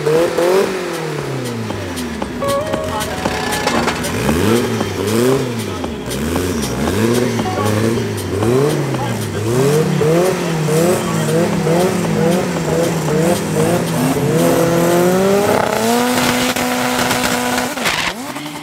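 A diesel VW Polo race car revs hard at a drag race at Midvaal Raceway, its engine climbing repeatedly through gear changes, loud and close, with a steady roar throughout and no talk.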